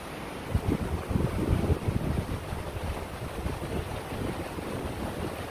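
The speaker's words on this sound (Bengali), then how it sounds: "অনেক বাতাস কিন্তু উত্তর দিকে থেকে হেঁচাইতেছে" Strong north wind gusts through a village during rain, a steady low roar that buffets the microphone, swelling briefly and then settling into a constant rushing noise.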